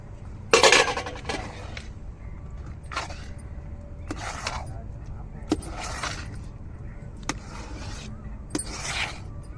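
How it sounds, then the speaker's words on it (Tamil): Ghee-roasted lentils and cashews go into coconut-milk kesari in a pan, giving several clattering scrapes and metallic clinks of a spoon against the pan, spaced irregularly. "இப்போ நெய்யில் வறுத்த பருப்பையும் முந்திரி பழத்தையும் சேர்த்து விட்டுருவோம்"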